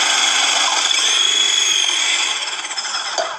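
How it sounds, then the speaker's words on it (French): A food processor fitted with a very fine blade slices potatoes, giving a loud, high, continuous whir that wavers and eases slightly near the end. No talking. "On essaye de prendre une lame hyper fine, le plus fin possible, et on va lancer la machine."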